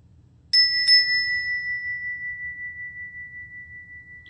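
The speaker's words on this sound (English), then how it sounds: "So this is a Vajra bell, and I just want to use it as an example" A Vajra bell is struck once, then a second strike follows shortly after, leaving a clear, pure ring that decays slowly over several seconds, heard alone up close.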